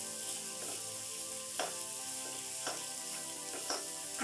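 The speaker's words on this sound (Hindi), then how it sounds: "ग्रीन चिल्ली, जिंजर, आदि सब्जियों को हमें तेल में 3 से 4 मिनट तक अच्छे से भूनना है" Chopped vegetables with green chilli and ginger sizzle in oil in a pan, a constant close hiss broken by roughly four spatula scrapes at an even pace, with faint tonal sound underneath.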